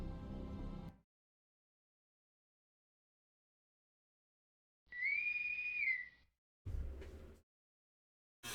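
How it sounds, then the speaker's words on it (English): A bosun's yeoman whistle sounds a Star Trek hail as one rising, held, then falling shrill piping call. It is heard alone between short bursts of other noise, and silence surrounds it. "I heard a yeoman whistle."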